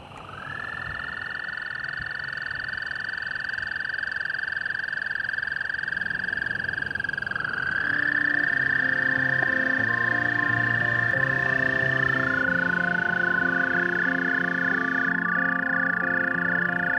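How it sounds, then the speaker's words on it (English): Several American toads call from a full puddle, giving long, steady high trills that overlap and take over from one another, with no voices heard. "Our puddle's full of American toads, a magnificent animal I really, really love."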